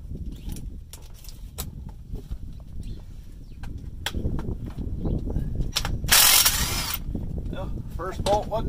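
A wrench ratchets and clanks on a bolt during tractor parts salvage, with irregular metallic clicks and knocks over a low rumble and a brief bright squeal of metal near the middle.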